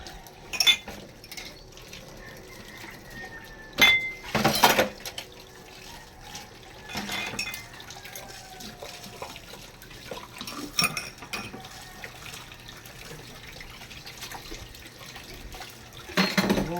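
Dishes are washed at a home sink, with a low wash of running water underneath and scattered clinks and clatters of bowls and cutlery at close range, some louder knocks now and then, no talking.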